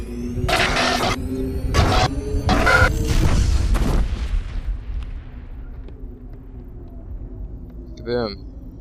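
Explosions in the video game Mass Effect: a run of loud, booming blasts in quick succession that roll off into a long rumbling decay, followed by a short synthetic electronic chirp near the end.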